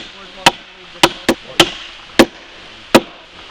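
Hammer blows driving the last railroad spikes outdoors, six sharp separate impacts spaced irregularly about half a second to a second apart, fairly close and loud over a quiet background.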